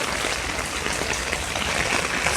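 Rain pours steadily onto a garden of sugar snap peas, marigolds and sunflowers, forming big puddles. The hiss is dense and even, without a break, and no one speaks.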